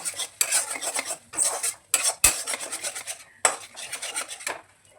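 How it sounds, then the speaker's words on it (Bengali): Cauliflower stalks with salt and sugar are stirred in a pan, with rapid rhythmic bursts of metal spatula scraping and clanking against the pan, briefly pausing between runs of strokes. "নুন মিষ্টি দিয়ে ভালো করে নেড়ে চেড়ে আমি নামিয়ে নেব"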